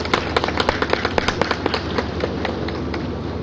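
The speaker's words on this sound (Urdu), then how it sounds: "ہم اس کو تالیاں بجا کر خراج تحسین پیش کریں" An audience at a ceremony claps as a tribute, with crisp individual claps close by over a continuous bed of applause that eventually thins out.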